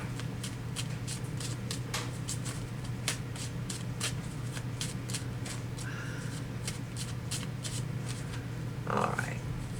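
Wizard Tarot cards being shuffled by hand, a steady run of soft, close riffling flicks over a constant low room hum, with one brief louder rustle near the end.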